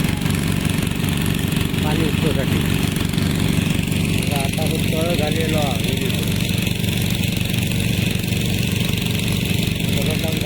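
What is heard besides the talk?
engine of machines running at well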